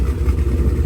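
A straight-piped, cammed Jeep SRT8 idles close by, a steady low, choppy rumble with an uneven loping pulse and no voices over it.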